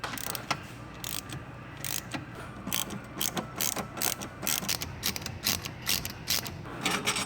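A hand ratchet clicks in quick, uneven bursts, close and fairly loud, as jet pump bolts are backed out on a Yamaha SVHO personal watercraft, with no talk.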